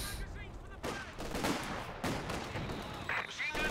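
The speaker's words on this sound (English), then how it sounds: "Had major artillery called off by Hooligan on the left side." Artillery fire booms in a strategy video game, with repeated heavy blasts and crackling impacts rolling through the battle while someone talks over the noise.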